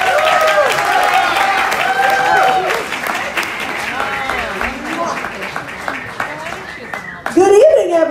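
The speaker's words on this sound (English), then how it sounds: "Everyone, please give a big round of applause for my friend, Rita Cosby." A gala and fashion show crowd claps and cheers loudly, with whoops and shouting voices riding over the applause, which eases off and then surges again in a final burst.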